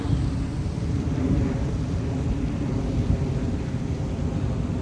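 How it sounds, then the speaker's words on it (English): An airplane passing overhead during an outdoor morning stroll under cloudy skies, a steady low broadband roar that holds evenly throughout, fairly loud and continuous. "All right, another plane."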